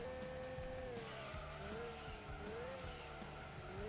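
A car in Gran Turismo 2 brakes hard with tires squealing and skidding over a steady engine drone, a continuous game-audio screech lasting several seconds with no talk.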